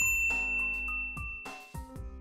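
A notification bell dings several times in quick succession, bright metallic strikes with ringing overtones that decay between hits, clear and close with no voices.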